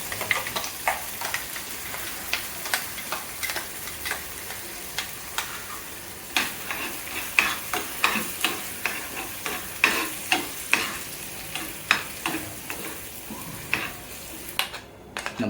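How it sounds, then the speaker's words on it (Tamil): Spices tempering in hot oil in a pan for a chutney, a steady sizzle and crackle with frequent sharp pops and spoon taps, close and moderately loud, no talking. "இது தாளித்து கொட்டி இறக்கிட்டால் போதும்."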